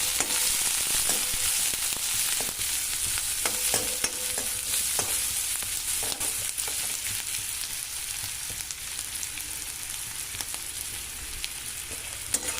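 Onions frying in oil in a pan until pink give off a steady, loud sizzle throughout, broken by frequent scraping and stirring clicks from a spatula.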